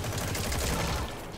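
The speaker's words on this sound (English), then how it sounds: "Another one shooting at us." Gunfire in the online video game Metal Gear Online, a short dense burst of rapid shots over a brief rumbling stretch, with no speech.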